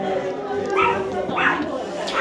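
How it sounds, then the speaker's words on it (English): Dogs bark and yip in the background of a small local dog cafe event, with several short bursts under continuous nearby talk. "Can already hear the dogs."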